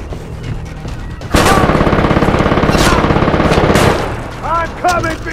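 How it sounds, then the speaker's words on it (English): Loud, close bursts of automatic gunfire in the video game Far Cry 3, one sustained rapid volley of about two and a half seconds, then scattered pops and clicks. "Stop shooting at me."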